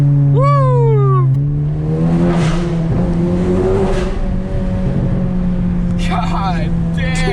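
A Honda Civic Si fitted with a PRL intercooler pulls hard in second gear, its engine note climbing steadily with loud, sustained roar, while excited voices shout briefly over it.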